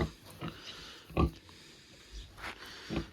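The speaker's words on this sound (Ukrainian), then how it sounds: "Ось така свинка у нас є." A pig on a village farm grunts in several short, close bursts spread across a few seconds, with quieter snuffling and background noise in the gaps.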